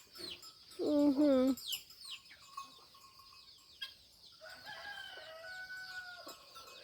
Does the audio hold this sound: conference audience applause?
no